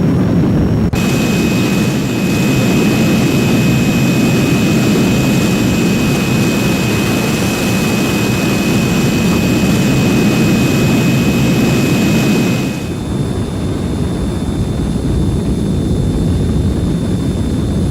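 A steady, loud jet roar from the Heinkel He 162 engine at full power in a flight video game, a constant rumble with a high whine that holds nearly unchanged before easing slightly toward the end.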